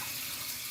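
Tap water running into gravy pots in a kitchen sink, a continuous close, even splashing rush without any talk.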